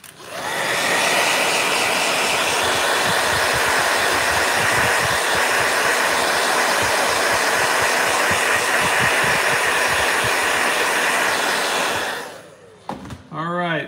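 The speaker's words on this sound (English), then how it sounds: "Blow dryer." A blow dryer runs loud and steady for about twelve seconds with a constant rushing whir, then cuts off near the end, followed by brief faint handling noises.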